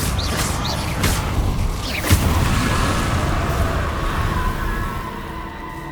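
Confringo fire spell cast in Hogwarts Legacy, a blast with a short boom and burst around the middle amid a busy, steady bed of game combat noise and whooshes.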